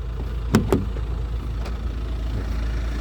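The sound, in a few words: Hyundai Staria Lounge 2.2 diesel engine running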